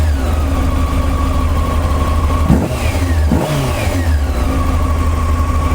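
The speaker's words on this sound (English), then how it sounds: "Just give the throttle a little blip." A motorcycle engine idles loudly with carburettors being balanced and synced, then the throttle is blipped twice, each a quick rev rising and falling back to a steady idle.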